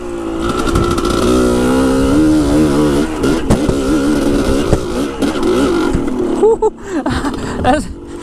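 A dirt bike engine fitted with a Lectron carburetor revs and drones loudly up close, its pitch swelling and falling with throttle changes while riding, then dropping into choppier bursts near the end.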